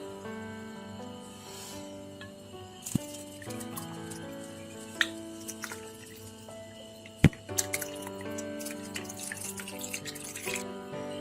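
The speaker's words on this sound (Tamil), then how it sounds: "இப்போ நம்ம இதை வந்து ஒரு அரிப்பில் அரிச்சுக்க போகிறோம். இந்த திப்பியெல்லாம் இல்லாமல் அரிச்சு வடிகட்டி வச்சுக்க போகிறோம்." Homemade medicinal herbal oil for sneezing being strained through a sieve, with soft drips and trickles of oil falling into a container under a steady background hum, punctuated by a few light clinks.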